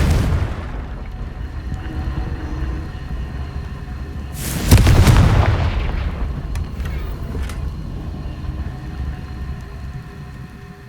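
A Confringo blasting-spell explosion from Hogwarts Legacy breaks out midway as a sudden loud boom, then fades into a rumbling tail. Before it there is a low steady game ambience.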